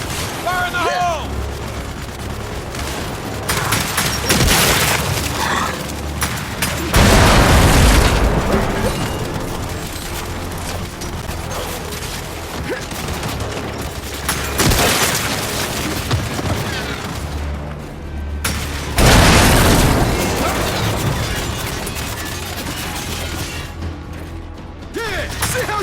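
Repeated heavy grenade blasts in the Gears 5 video game on Xbox One X, booming bursts at intervals over constant gunfire and battle noise, with voices shouting in places.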